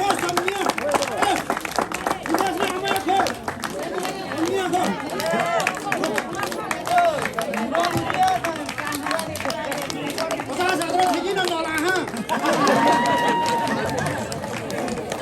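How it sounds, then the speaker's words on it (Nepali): A crowd at a village donation ceremony claps steadily and fairly loudly, with chatter and a speaking voice mixed in throughout. "ताली बजाउनु होला कृपया।"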